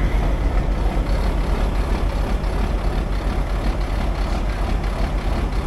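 Old cable shovel that sat for 23 years, running and swinging, a loud dense heavy-engine roar with rattling machinery that holds steady throughout, no talking.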